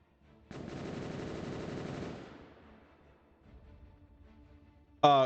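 Rapid automatic gunfire in the space sandbox game Space Engineers, a dense burst lasting under two seconds that trails off into rumbling echoes, ending with a sharp loud hit.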